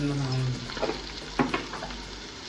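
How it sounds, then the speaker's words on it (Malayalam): Turmeric and Kashmiri chili are stirred in a hot pan for a tomato moru curry. Oil sizzles steadily close by while a spoon scrapes and clatters in a few quick strokes. "കുറച്ച് കാശ്മീരി മുളക് നന്നായിട്ട് ഇളക്കുക"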